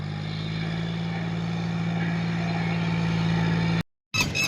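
Two L&T machines working a muddy field, a steady low engine drone with a constant hum that runs loud and unbroken before cutting out abruptly near the end.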